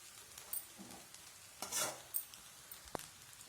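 Quiet scraping and stirring of tomato rice in a pan, with a few soft strokes and clinks of a spoon against metal and a faint sizzle beneath, no voices.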